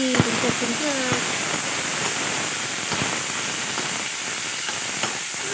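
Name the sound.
peas (matar) frying in a pan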